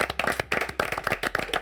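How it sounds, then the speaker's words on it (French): A few people clap for footballer Neymar around a gaming table, brisk close hand claps in an uneven rhythm, with a brief murmur of voices. "On peut applaudir Neymar, un grand merci."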